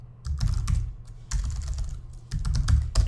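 Close, quick typing on a computer keyboard comes in three bursts of rapid clicking keystrokes with brief pauses between them. No voice is heard.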